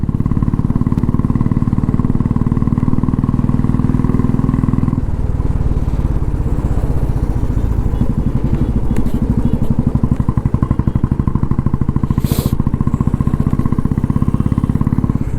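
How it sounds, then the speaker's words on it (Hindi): Royal Enfield Bullet Standard motorcycle, second-hand, engine running steadily at idle with a loud, continuous low thumping rumble and rapid rhythmic pulses, close and alone, with a slight revving change partway through. "ताकि वो बुलेट का जो हमारे इंदौर का जो साउंड है उसका मज़ा ले सके।"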